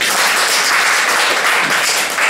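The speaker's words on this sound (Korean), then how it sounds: "자, 박수 한번 주세요." A seminar audience bursts into loud, dense applause, many hands clapping close and continuously at full strength for the whole span, with no talk over it.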